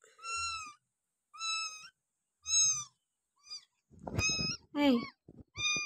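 A sick cat meows repeatedly, with four drawn-out, wavering cries spaced about a second apart, followed by a couple more. A person speaks briefly near the end.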